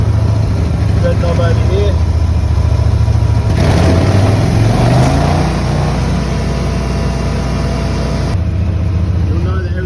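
A Forst ST6P wood chipper engine idles with a steady, loud, close rumble that swells briefly in the middle, while someone talks over it.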